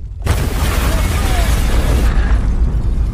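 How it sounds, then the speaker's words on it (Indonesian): A building explosion: a loud, sustained explosive roar fills the clip, a heavy rumbling blast that continues with dense low-end energy before easing slightly near the end. "tiba-tiba gedung sebelah meledak dan John"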